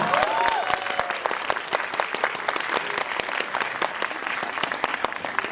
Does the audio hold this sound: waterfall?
no